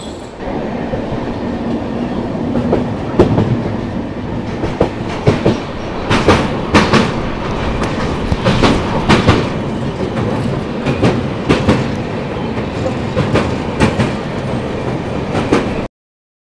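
Yeshwantpur Duronto Express running on tracks through a ghat section in heavy flood conditions, a steady loud rumble with rhythmic clickety-clack of wheels over rail joints throughout, heard close from inside the train.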